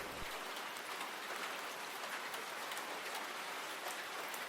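Steady rain falls in a dark kids' show, a dense even hiss of drops on surfaces that holds throughout with no talk.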